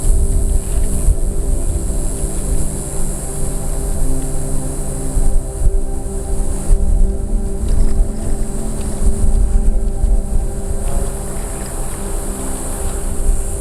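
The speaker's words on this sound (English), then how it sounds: "It's a windy day out here." Constant wind buffeting a microphone on an outdoor rail trail, a loud low rumble with a steady hum beneath, no voices and no breaks.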